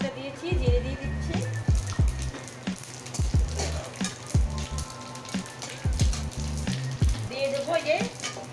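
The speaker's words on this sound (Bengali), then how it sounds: "শুকনো লঙ্কা, তেজপাতা দিয়েছি, জিরে দিয়ে দিচ্ছি।" Dried red chillies, bay leaf and cumin seeds crackle and spit in hot oil for a bangla lau bharta with shol fish, a steady sizzle broken by sharp pops and clinks of utensils, with a voice talking over it.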